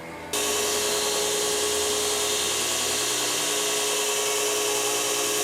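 A power tool whines steadily at high pitch while deburring freshly made metal parts for a homemade snow bucket on a Chinese mini excavator, starting abruptly after a brief moment of quiet and running loud and continuous.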